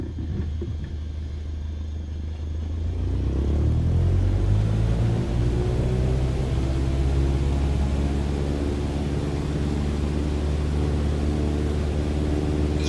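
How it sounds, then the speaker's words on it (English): A light aircraft engine in Microsoft Flight Simulator 2020 throttles up to full takeoff power, a steady low drone that swells after a few seconds and then holds as a loud, continuous roar with rising tonal whine. "Apply full power and I'll walk you through the takeoff as we go."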